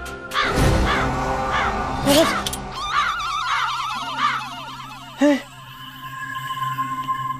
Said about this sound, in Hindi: उस कोने से कौवा उड़ता हुआ आएगा